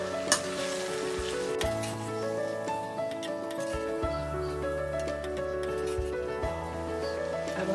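Kashmiri red chili powder, turmeric, pav bhaji masala and garam masala get stirred into Mumbai-style tawa pulao in a hot pan, a steady soft sizzle with scraping stir strokes up close.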